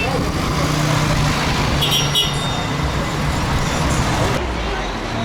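An old Volkswagen T1 bus drives past along a street near the Giza pyramids, a steady engine and road rumble heard over continuous traffic noise and distant crowd babble.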